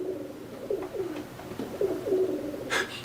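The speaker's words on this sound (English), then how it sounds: "There's a pigeon outside my window." A pigeon coos repeatedly outside a window, producing soft, low, throaty calls in a steady sequence at moderate distance, followed by a brief rustle near the end.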